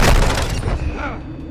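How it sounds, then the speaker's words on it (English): A cruise missile explodes in a shooter game with a loud boom that fades into a rumbling tail, and a voice talks over it. "Enemy launched a cruise missile."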